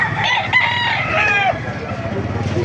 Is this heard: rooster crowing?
yes